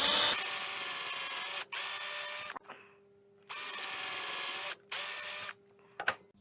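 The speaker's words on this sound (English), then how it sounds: "drill 2 5mm holes through that" A power drill bores two 5mm rivet holes while a double table saw bench is being built, whining loudly in two long close bursts separated by a short pause, then stopping with a brief clatter.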